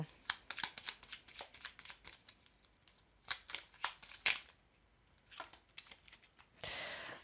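Cards are drawn and laid down on a table during a card reading: soft, quick slaps and flicks come in clustered runs, separated by short pauses, ending in a longer papery swish. The whole thing is quiet and close.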